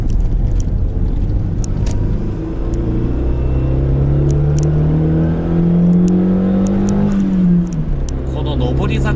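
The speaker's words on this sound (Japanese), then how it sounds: "この上り坂でもグイグイ行ってくれるの本当楽ですね。 あっさり加速していきます。" Daihatsu Copen L880K fitted with a sports ECU accelerating uphill, a loud, close engine drone whose pitch climbs steadily before easing off near the end, with someone talking over it throughout.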